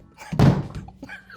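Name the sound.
beating the rhythm of Queen's We Will Rock You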